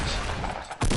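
Gunfire in the Fortnite video game crackles in a dense, loud burst of shots that breaks off briefly and then resumes, heard close and with no talking.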